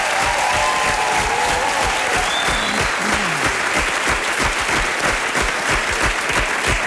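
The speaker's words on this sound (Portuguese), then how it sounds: "uma salva de palmas." Studio audience applause at a televised gala, loud and dense continuous clapping with a faint crowd murmur beneath, no clear speech.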